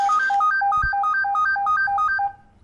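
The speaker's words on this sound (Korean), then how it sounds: "전화가 왔군요" A phone rings for an incoming call during a Korean football news broadcast. A bright, repeating two-note electronic melody plays steadily at close range for about two seconds, then stops abruptly.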